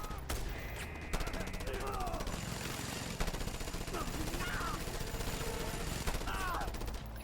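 Rapid machine gun fire in a first-person shooter game, a dense continuous rattle of bursts with sharp repeated cracks, mixed with in-game effects and some distant rumbling throughout.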